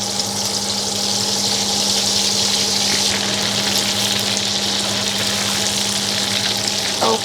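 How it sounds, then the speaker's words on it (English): Shrimp paste frying in hot oil for Thai chilli paste, a loud steady sizzle with a constant low hum beneath it and no voices. "we put 1 tablespoon of the shrimp paste and fry it"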